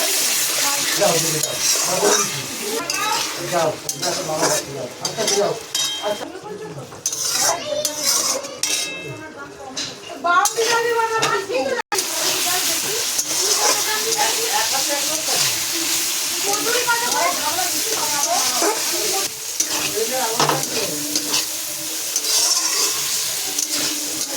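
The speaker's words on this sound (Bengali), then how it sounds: "দেবো সেলাইতে একটু জল" Water goes into a frying fish curry in a pan, with hissing sizzle mixed with ladle scrapes and clanks of metal cookware over roughly twenty-four seconds, and a voice talking intermittently.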